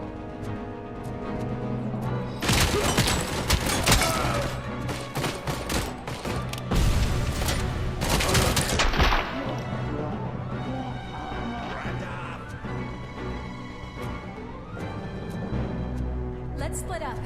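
Video game gunfire from Dead or Alive, dense bursts of rapid shots and blasts packed into the middle stretch, then thinning into lighter sporadic firing over music and voices.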